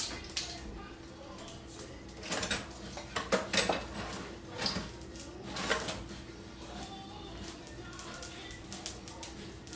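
Dried chilies being toasted in a pan in a home kitchen with the doors open. Metal clinks and scrapes arrive in irregular bursts over a steady low hum, moderately near but not loud.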